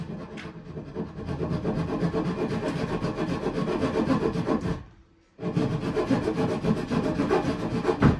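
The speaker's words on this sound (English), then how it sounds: "I'm just gonna do it with a handsaw. Handsaw it is." Steady rasping strokes of a handsaw cutting through wood, close up, with a brief pause before the rhythmic sawing resumes.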